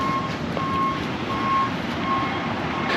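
A truck's reversing alarm beeps steadily in evenly spaced tones near a pier construction site in Pensacola, Florida, with a faint engine hum and outdoor background noise underneath.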